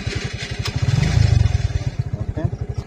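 A TVS motorcycle engine running at idle, a steady close, loud pulsing throb with a brief swell in the middle before settling back, with faint talk in the background.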